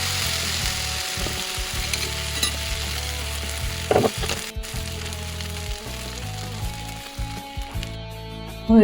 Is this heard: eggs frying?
yes